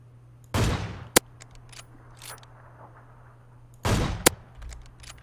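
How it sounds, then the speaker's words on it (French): Two loud gunfire bursts in the PUBG battle royale shooter, each a broadband blast followed by a sharp crack, about three seconds apart over a low steady hum, with no talking. "Mais y'en a d'autres qui lui tirent dessus."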